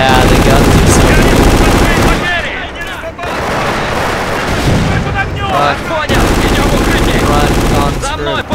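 Rapid machine-gun bursts and artillery booms from the Eastern Front setting of the strategy game Company of Heroes, dense and loud almost throughout, with brief quieter dips and a voice talking over the combat.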